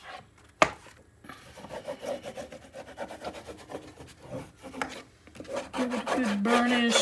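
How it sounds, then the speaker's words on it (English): Paper being burnished flat on a mini album page gives a series of close, scratchy rubbing strokes in an uneven rhythm, with a sharp tap near the start. "Give it a good burnish, get all the air pockets out, the wrinkles out."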